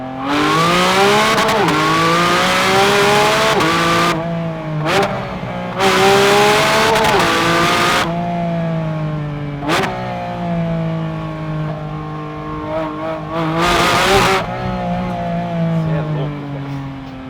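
A 2024 Porsche 718 Spyder RS, a convertible, accelerating hard on a road, its engine note rising loudly through repeated gear pulls with brief lifts between them, heard from inside the car, with someone talking excitedly over it.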